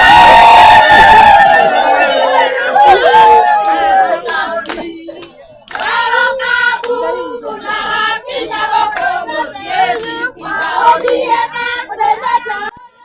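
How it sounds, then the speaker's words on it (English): Crowd cheering and clapping at a dowry payment ceremony gate in Murang'a, Kenya, with a loud burst of voices and hands at the start, then lively mixed shouting, whoops and chatter continuing throughout. "people got in cheering, and they were so happy"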